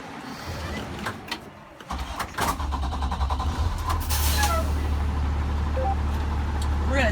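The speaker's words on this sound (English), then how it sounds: "And we're gonna start our bus." School bus engine cranking and catching, a brief starter whir followed by a diesel rumble settling into a steady, fairly loud idle.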